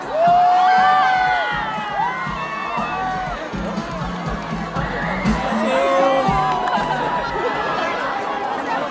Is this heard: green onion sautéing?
no